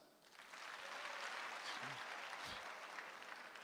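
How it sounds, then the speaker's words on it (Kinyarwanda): A comedy show audience claps for Sina Gerard, a steady round of applause that builds in quickly and holds with a few faint vocal sounds mixed in. "Sina Gerard mukomera amashyi."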